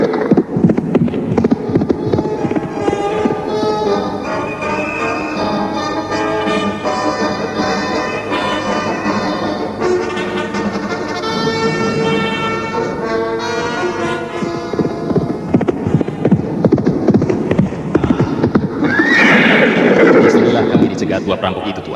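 Four riders on horseback leave the village of Kurawan: steady trotting hoofbeats with a horse's neigh, heard under continuous music and a narrating voice, loudest toward the end.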